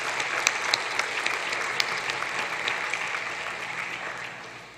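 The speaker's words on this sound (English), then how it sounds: "join me in please applauding and congratulating every single player, coach, and school" Applause from the audience at the 2022 SSFL school football prize giving ceremony: a steady patter of many clapping hands in a hall that fades toward the end.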